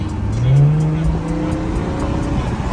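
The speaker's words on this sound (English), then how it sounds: "Give a little engine sound real quick." Infiniti Q50S with a muffler delete revs up close, its raw, loud engine note climbing in one rising sweep, then falling back to a rough, steady rumble.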